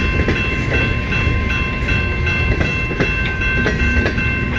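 Up close, a CN freight train keeps passing with a loud, steady roar, repeated clickety-clack from the wheels over rail joints and a faint squeal partway through, and no voices are heard.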